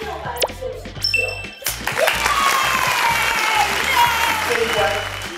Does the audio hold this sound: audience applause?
yes